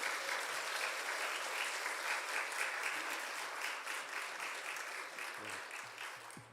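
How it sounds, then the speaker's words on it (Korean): A church congregation at an autumn revival service claps steadily and warmly to welcome a pastor. The dense applause holds for several seconds and thins slightly toward the end. "우리 송 목사님 나오실 때 큰 박수로 환영해 주신 감사하겠습니다."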